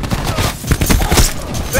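Rapid bursts of gunfire crackle loudly in a Nuketown match of a shooter video game, a dense volley of close shots with game voices mixed in.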